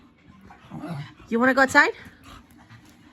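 A dog whimpers and pants in short, excited bursts close by, loudest in the middle of the clip, while a person talks to it.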